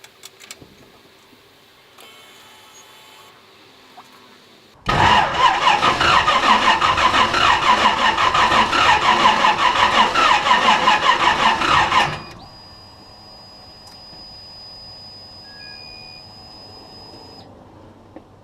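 A Holden HT Monaro fitted with FiTech fuel injection cranks loudly for several seconds, then the engine settles to a quieter rough idle. Faint electronic beeps and tones can be heard before and after.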